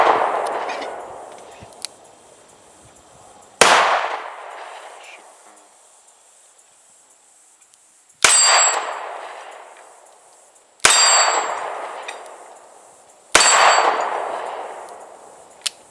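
Five spaced shots from a Taurus Model 85 .38 Special revolver fired outdoors, each a sharp crack followed by a ringing metallic clang off steel targets that decays slowly.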